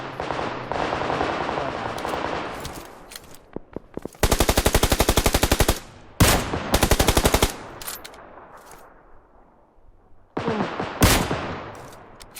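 In a PUBG Lite battle royale match, gunfire bursts out in long rapid automatic volleys, loud and close, with sharp single shots between them and brief quiet gaps, alone without talk.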